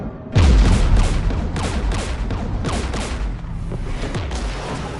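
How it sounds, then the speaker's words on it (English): Rapid bursts of automatic weapon fire in the sci-fi shooter Mass Effect 3, loud and close, with a heavy thump at the start and repeated crackling volleys continuing throughout. "We're taking fire."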